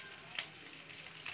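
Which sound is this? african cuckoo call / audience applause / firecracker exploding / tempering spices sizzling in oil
tempering spices sizzling in oil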